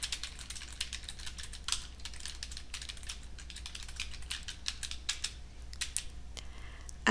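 Typing on a computer keyboard, a quick irregular patter of light clicks in close, quiet bursts, with no talking.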